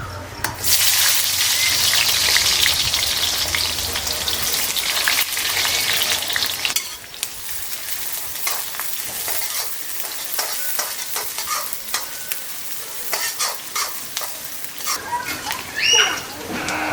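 Chopped onion sizzles loudly in hot oil alongside browned fenugreek for a mutton curry, with a steady bright hiss and scattered scraping stirs throughout, easing slightly in the second half.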